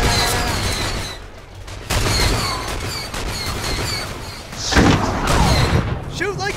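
Blaster gunfire in the Star Wars: The Old Republic video game, loud rapid bursts and thuds layered over game music and effects, with someone talking excitedly throughout.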